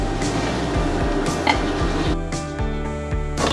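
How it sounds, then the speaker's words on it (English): String beans are tipped into a pot of vegetables and stirred, producing soft clattering and scraping, a few metallic knocks, and light sizzling under a steady low hum, close and moderately loud. "we're going to add the string beans to the mix"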